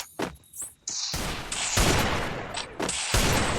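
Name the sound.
gunfire in a shooting video game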